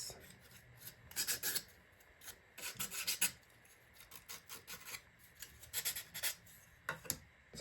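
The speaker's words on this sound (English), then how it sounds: "let's give a wee sand in because look at all those" Small wooden model parts from a ROKR Magic Cello kit being sanded to remove burrs, quiet close rasping strokes in short bursts with brief pauses between them.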